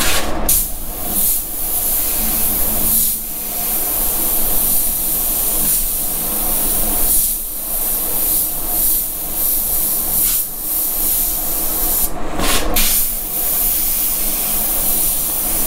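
Continuous broadband hiss of an airbrush spraying thick paint onto hats, close and steady, briefly interrupted by short pauses between passes.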